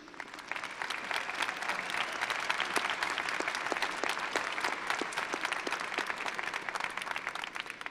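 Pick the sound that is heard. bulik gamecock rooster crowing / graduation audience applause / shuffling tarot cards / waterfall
graduation audience applause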